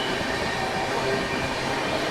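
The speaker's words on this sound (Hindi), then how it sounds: "कोई तो पैसेंजर ट्रेन है जिसको हम लोग ओवरटेक कर रहे हैं।" A passenger train being overtaken, heard from inside a moving train as a loud, steady rumbling roar of wheels and rails, close and continuous with no clear breaks.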